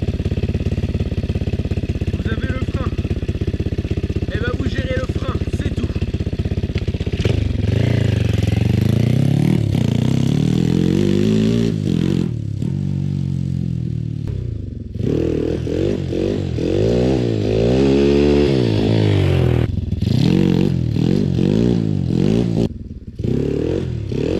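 Motorcycle revving hard for a wheelie, its engine loud and close throughout, surging up and down repeatedly with rising and falling pitch sweeps over a constant roar and no talking.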